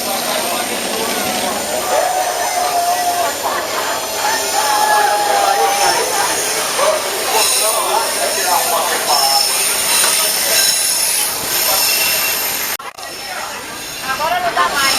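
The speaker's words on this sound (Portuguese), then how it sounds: "ele vai pegar o trem ali, ó, fazendo a curva." Tourist train running on rails through a curve near Mariana, its wheels squealing in drawn-out tones over a continuous rumble, with people chatting nearby throughout.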